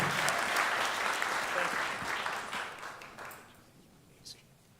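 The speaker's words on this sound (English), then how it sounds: "Let's give him a round of applause." A crowd at a street-naming ceremony in Newport News applauds, a dense burst of clapping that fades out over several seconds, with some voices mixed in and one last stray clap near the end.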